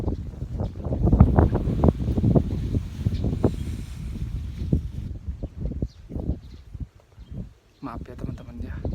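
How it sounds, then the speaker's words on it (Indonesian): Strong outdoor wind buffets the microphone in heavy, uneven low rumbling gusts that run nearly continuously, easing and thinning toward the end, with a voice underneath. "itu angin teman-teman, kencang banget anginnya"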